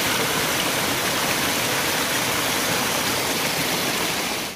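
Kataldhara waterfall near Lonavala rushes steadily, a dense, loud roar of falling water that fills the whole stretch without a break and cuts off at the very end.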